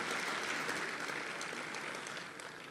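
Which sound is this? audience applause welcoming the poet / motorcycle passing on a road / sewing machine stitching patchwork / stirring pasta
audience applause welcoming the poet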